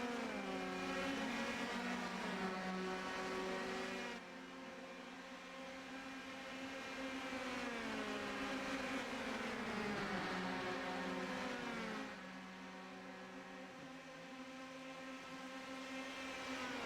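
Race cars in a sim racing game at Watkins Glen scream through the gears, engines wailing in layered harmonic tones that rise and drop as they shift and brake into a turn, steady and continuous.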